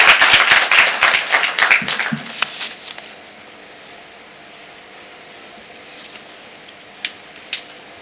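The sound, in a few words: audience clapping for a speaker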